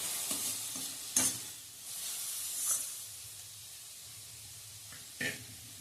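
Vegetables sautéing in a little oil for bread roll stuffing, a soft steady sizzle with a few sharp scraping stirs of a spoon in the pan.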